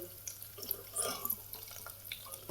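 Cooked dal is poured into a pan of hot fried tempering for a homemade varan, making a soft watery splashing and light sizzle, close by and fairly quiet throughout.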